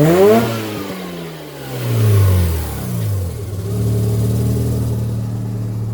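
Mazda RX-7 FC with a street-ported naturally aspirated rotary engine, revving close by: sharp throttle blips climb and drop quickly, then the engine settles into a steady, buzzy high idle.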